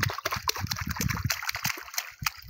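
Water splashes and trickles during a small child's bath at home, a busy run of irregular sloshes, dribbles and splatters close by, with an adult talking intermittently.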